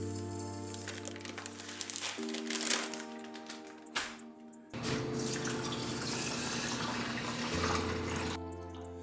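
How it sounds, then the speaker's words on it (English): Water runs steadily from a tap into a pot of rice, a broad splashing wash with brief pauses and a low hum underneath. "pour in enough water to cover it by about 1 inch"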